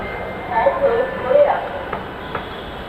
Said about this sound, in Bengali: অলরেডি দেখেন যে ট্রেন চলে এসেছে